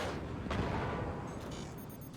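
Cannon shots in the Forts strategy game, a dull booming impact followed by rumbling debris and faint metallic clinks, moderately loud with no talk.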